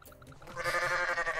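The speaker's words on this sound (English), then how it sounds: "Never heard that goat noise before." A goat in the Goat Simulator video game lets out a short, wavering bleat that swells up after a few faint clicks, close and fairly loud.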